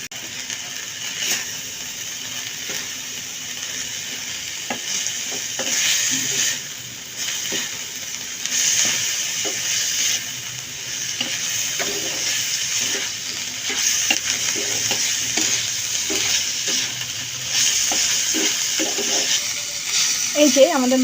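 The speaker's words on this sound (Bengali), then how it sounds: "এই যে আমাদের মাংসটা ভাজা হয়ে গেছে" Chicken meat for shawarma frying in a pan, a steady sizzle with repeated scraping and clicking stirring strokes, fairly close and continuous.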